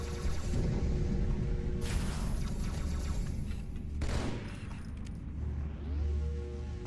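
Dense, sustained gunfire from the Halo 2 video game, with bursts layered over constant game noise and a couple of sharp sweeping effects.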